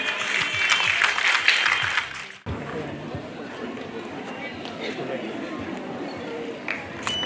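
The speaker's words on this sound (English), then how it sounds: "Dear audience, let us all clap for her." Audience applause at a graduation ceremony rings loudly for about two seconds, then cuts abruptly to a quieter room with murmuring voices and scattered faint claps.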